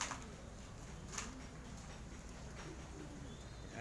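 Pet birds feeding make faint cooing calls and soft scattered clicks against a hissy, quiet background, with a few brief chirps standing out.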